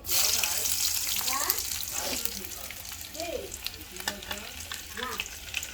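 Garlic sizzles in hot oil on a clay stove after dried chillies, with steady frying crackle, occasional stirring scrapes and faint voices in the background.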